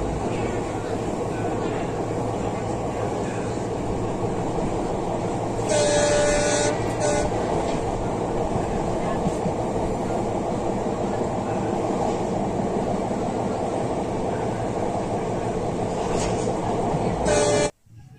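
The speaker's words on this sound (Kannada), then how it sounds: "ಈಗ ನೋಡ್ರಿ ನಮ್ಮ ಟ್ರೈನ್ ಎಂಟ್ರ್ ಆಯ್ತು ಬಾಗಲಕೋಟೆಗೆ." A passenger train runs steadily on the line into Bagalkot station, a continuous loud rumble of wheels and carriages with short bursts of horn or brake squeal around the middle and near the end before it cuts off.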